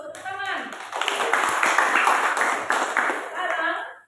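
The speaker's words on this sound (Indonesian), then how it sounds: "Bagus, tepuk tangan." Classroom applause from a group of students clapping their hands, a dense, steady patter of many claps lasting several seconds, with voices mixed in.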